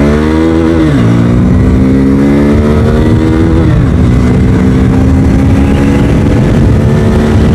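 A 2024 Hero Xtreme 160R 4V motorcycle engine revs up close and loud, its pitch climbing through gears with two clear shift drops before settling into a steady high drone.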